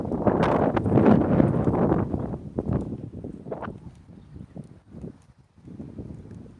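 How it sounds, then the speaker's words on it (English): Gusty wind buffets the microphone outdoors in loud, rumbling bursts that ease and return, with no talking. "It's windy too."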